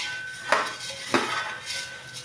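Puffed rice bhadang ingredients tossed together in a bowl, giving two distinct clinks of a utensil against the dish over a soft rustling background, with no talking.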